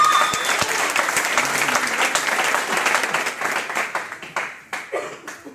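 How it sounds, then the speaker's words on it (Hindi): A crowd at a women's empowerment event applauds loudly and steadily, then the clapping thins into scattered separate claps that fade out near the end, with faint voices underneath. "जोरदार ताली होनी चाहिए।"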